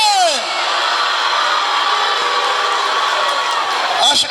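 A large church congregation at a thanksgiving Mass cheers and whoops loudly in a continuous roar, applause and shouting blending together with a few voices rising above it.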